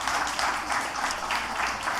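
An audience applauds a panel at the end of a long evening discussion, sustained clapping from many hands with a fairly steady rolling texture across the whole stretch.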